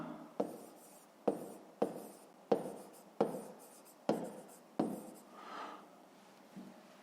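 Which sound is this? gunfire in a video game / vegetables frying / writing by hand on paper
writing by hand on paper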